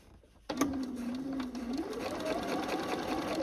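Sewing machine running after a quiet start, a rapid mechanical whir of stitching that rises slightly in pitch as it speeds up, close and continuous, sewing a seam on a quilt.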